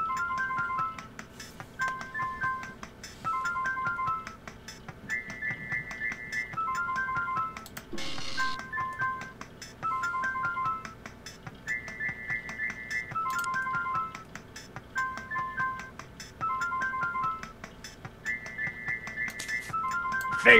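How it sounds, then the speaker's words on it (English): A cheerful chiming text message alert in Strong Bad's Cool Game, a short melodic ringtone phrase repeating several times over a steady game background, moderately loud. "It's a text message!"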